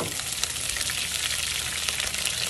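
Pork fat sizzles and fries steadily in a pan, a dense continuous crackle close by with no voices.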